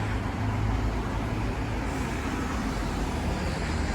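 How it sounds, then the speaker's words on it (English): Steady broadband roar of busy weekday street traffic on a corner in Frankfurt, continuous and fairly loud with a low rumble of passing cars and buses and no talk. "It's getting a little bit loud down here because of all the traffic."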